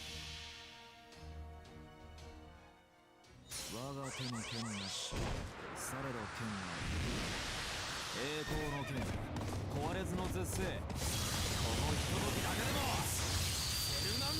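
A horse whinnies loudly in the Fate/Grand Order Lostbelt 5 game, several rising neighs over galloping clip-clop and a dense battle soundtrack, with someone talking along.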